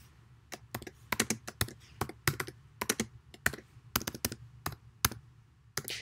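Rapid, uneven keystrokes clatter on a computer keyboard as a title is typed in, a close, crisp burst of clicks with short pauses between clusters over a low steady hum.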